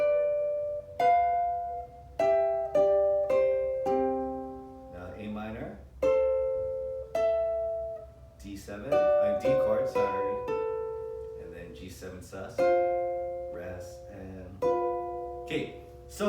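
Ukulele chords are picked with only the index finger, each strum giving a bright ringing chord that decays before the next, in an unhurried, uneven rhythm with short pauses between groups.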